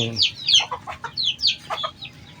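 Gamecock chickens cluck in a run of short, close calls, a few bird sounds per second, with high chirpy notes mixed in and no talk over them.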